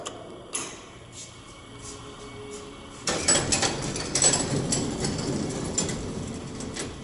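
A vintage Otis traction elevator in the Monticello Arcade in Norfolk, Virginia, with its bumper removed, hums faintly and then breaks into a louder, steady mechanical rattle and rumble about halfway through, running on with no talk.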